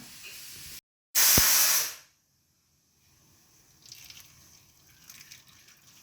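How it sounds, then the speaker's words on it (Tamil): Hot water is poured over pieces of salted fish (karuvadu) in a kitchen, producing a brief, loud rushing splash lasting under a second, then near silence with faint background noise. "இதில் இப்போ கொஞ்சம் சுடு தண்ணி ஊற்றி ஊற வச்சுக்கலாம்."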